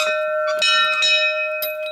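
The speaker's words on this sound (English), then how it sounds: "Well, let's ring the bell then." A doorbell at an old Templar commandery door rings in a sustained, bright chime with steady ringing tones and a few light strikes, close and clear with no talking.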